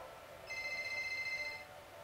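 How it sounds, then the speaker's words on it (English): A phone rings once with a bright electronic trill lasting about a second, moderately loud over a quiet background with no talk. "put your phone in silent."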